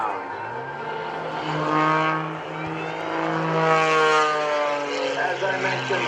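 A custom aerobatic propeller airplane flies hammerhead turnarounds at an airshow, its engine droning steadily and swelling in pitch and volume as it climbs vertical and pivots. An announcer talks over the engine throughout.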